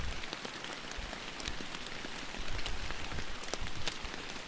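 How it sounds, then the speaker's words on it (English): Rain falls in the Fishing Planet fishing game, a steady hiss of drops on water and surfaces with scattered sharper patters, growing a little heavier partway through. "But it's raining, so maybe they won't come out."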